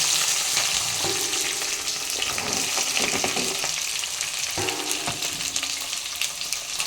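Onions with green chillies frying in hot oil in a pan, a continuous close sizzle punctuated by scraping stirs of a spoon, with no talk.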